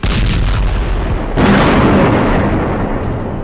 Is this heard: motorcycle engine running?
no